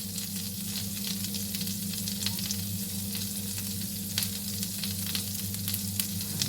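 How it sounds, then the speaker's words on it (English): Ginger, chili flake and fresh coriander butter melting in a pan, giving a steady close sizzle and fry that runs the whole time with no talk. "I'm just gonna melt it"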